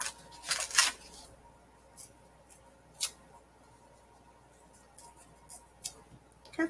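Scissors snipping construction paper into a small half-moon gill shape, a few quick crisp cuts near the start followed by sparse isolated snips and soft rustles, close and quiet, no speech.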